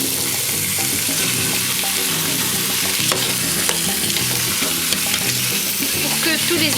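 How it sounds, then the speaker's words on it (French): Spices being stirred in a hot pan for homemade couscous, with ginger, salt, pepper and food colouring, a steady loud sizzle with continuous scraping and stirring throughout, no voices. "Ce que je fais maintenant, je vais un peu mélanger."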